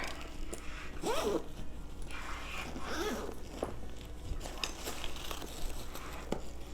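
A zipper runs along a double-zippered Corkcicle bag, giving several quick rasping pulls at close range amid soft handling rustles, with no speech.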